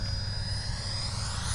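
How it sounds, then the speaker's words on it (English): An F4 Phantom model airplane flies at an airfield, its steady jet-like whine and engine roar holding constant throughout at moderate distance, with no voices. "that is a pretty airplane."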